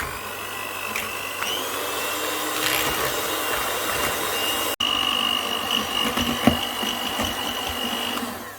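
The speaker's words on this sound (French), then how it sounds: "je vais fouetter pendant voilà, pendant au moins 2-3 minutes" An electric mixer whirs steadily while whisking eggs and sugar for a génoise sponge, a loud, close, continuous buzz with occasional rattles against the bowl and one brief cut.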